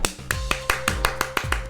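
Hand clap sound effect from an Ace Attorney video game, a run of about nine sharp, evenly spaced claps, crisp and close, with no talk.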